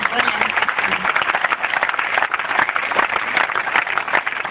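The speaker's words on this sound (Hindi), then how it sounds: "वो माँ के लिए एक बार जोरदार ताली" Audience applause for a mother at a Hindi-speaking motivational gathering, dense steady clapping from a crowd filling the whole stretch, fairly loud and close, with some voices mixed in.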